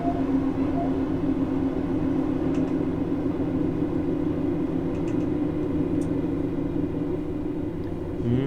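A Class 156 diesel multiple unit in Train Simulator on the Lincoln to Newark line, slowing toward Swinderby station, gives a steady low engine and wheel rumble that holds level throughout with faint clicks above.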